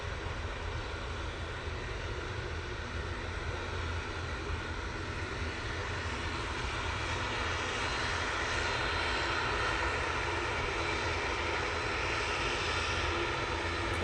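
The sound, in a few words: TUI airliner arriving from Cancun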